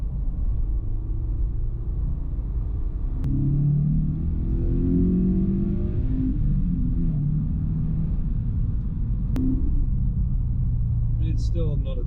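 A Subaru BRZ engine fitted with Pro Speed Racing unequal-length catless headers and an off-the-shelf tune rumbles in a low, steady idle with a brief rise in revs midway, heard from close by, while someone talks over it.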